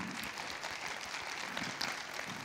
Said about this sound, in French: Rien que pour tout ce que vous faites, on vous applaudit, bien sûr, pour votre présence et toute votre action.